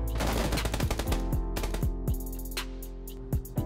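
An M416 assault rifle in PUBG fires rapid automatic bursts, sharp evenly spaced cracks in quick succession with brief gaps between strings of shots, loud and close with no voices.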